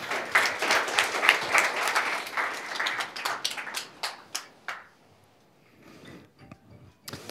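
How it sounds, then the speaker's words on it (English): Classroom audience applauding a student's coding project: a burst of close, crisp hand claps that fades out after a few seconds, leaving a quiet room with a few scattered taps. "Can we get a round of applause?"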